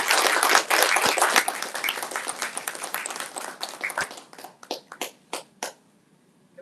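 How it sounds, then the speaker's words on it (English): An audience greets an ambassador with a dense round of clapping that thins out into scattered individual claps before fading to near silence. "Let's show her our vision with a big round of applause."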